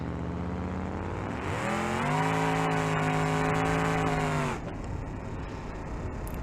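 Game car engine revving hard in BeamNG.drive, loud and close, pitch climbing through a sustained high-rev run before cutting off abruptly, with only road and tire noise continuing afterward.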